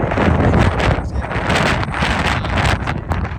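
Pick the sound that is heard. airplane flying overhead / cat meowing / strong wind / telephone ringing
strong wind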